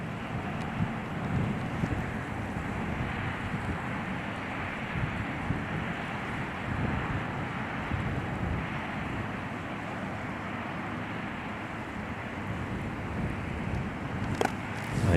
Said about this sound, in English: None of these putts are a gimme with this wind.